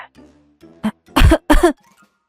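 A person with a fever gives two loud, harsh coughs close to the mic, preceded by a faint throat sound and low murmuring, then quiet.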